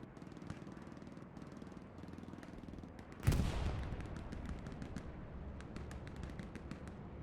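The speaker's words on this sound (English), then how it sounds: "Major Lombardi just doing work with the machine gun there" Machine gun fire in a tournament match of a video game comes as a steady stream of distant, rattling shots, broken by one sharp, loud blast partway through, with more crackling gunfire afterwards.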